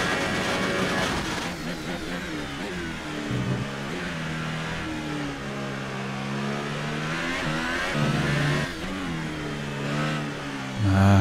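In the F1 2018 racing game, a Formula 1 car's engine revs high and rises and falls repeatedly under throttle, close and loud, with pitch sweeping up and down through gear changes and no talk.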